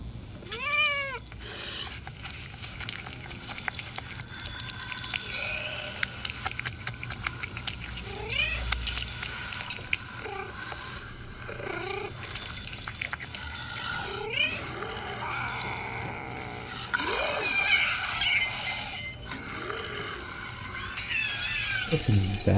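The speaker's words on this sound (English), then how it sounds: "Poor kitty." A cat in the zombie game Dead Island 2 meows repeatedly, a string of drawn-out, fairly close cries spread across the stretch over low ambient game noise.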